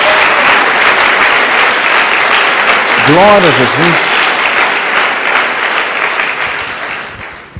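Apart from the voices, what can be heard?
congregation applause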